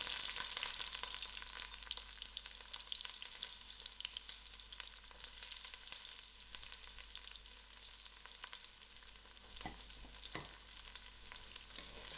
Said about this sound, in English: I will allow these onions to fry out